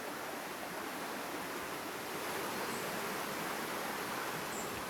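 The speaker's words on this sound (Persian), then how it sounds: "یکی از جاذبه هاش صدای رودخونه است" A river flows past a tourist campsite, heard as a steady, broad rushing wash of water at an even level throughout, with no voices and no distinct splashes.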